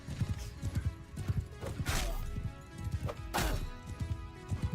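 Horse in Mount & Blade II: Bannerlord galloping in battle and struck by a weapon, with rapid clip-clop hoofbeats, a couple of loud whinnies and sharp hit impacts, all close and fairly loud.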